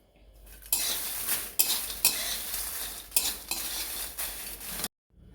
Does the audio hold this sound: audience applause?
no